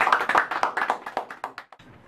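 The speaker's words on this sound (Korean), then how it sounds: "뜨거운 손뼉으로 반갑습니다" An audience at a lecture applauds to welcome a speaker, a short burst of loud, close clapping that thins out and stops after about two seconds.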